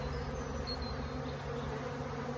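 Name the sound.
honeybees buzzing around an opened hive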